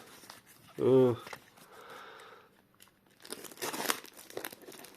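Packing tape is torn and ripped from a parcel in several rough bursts, with crinkling in between; a voice is heard briefly.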